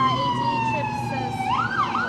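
Emergency vehicle siren on a street in Waikiki, a loud continuous wail sweeping up and down, rising in pitch toward the end, over steady traffic hum.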